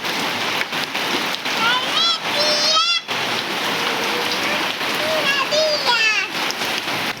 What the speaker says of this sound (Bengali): তো তার জন্য দেখো এত বৃষ্টি পড়ছে, এখন তাও একটু কম